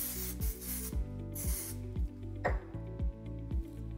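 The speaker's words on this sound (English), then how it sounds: "So I'll spray a little bit sometimes right in those windows to give me just a little bit more coverage." Hair tint spray hisses onto the hairline in short, regular bursts, roughly one every half second, close and fairly quiet over a steady low hum.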